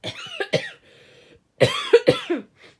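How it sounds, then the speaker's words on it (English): Two bursts of coughing, a couple of harsh coughs, then a short pause and a louder cluster of three or four coughs, close and alone. "Oh God, I've got a cough."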